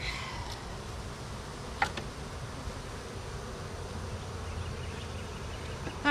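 Honey bees buzz around an opened hive, a steady close swarm drone with a few brief clicks and knocks from the hive equipment, and no voices.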